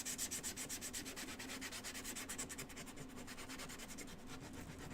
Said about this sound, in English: All right, let's sand our hanger.